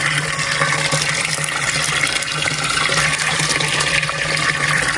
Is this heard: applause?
no